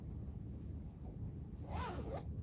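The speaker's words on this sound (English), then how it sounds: "I'm going to close the zipper again." A clothing zipper on a sewn tote bag is pulled closed in one quick, rising rasp of about half a second, close and clear over a quiet room hum.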